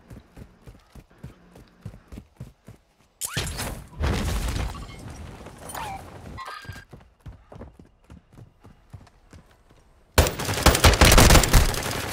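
Single gunshots from a video game rifle set to semi-automatic ring out in separate, loud, close bursts. Quieter rhythmic footsteps and game noise come between them.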